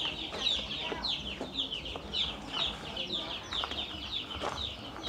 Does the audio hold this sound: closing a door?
no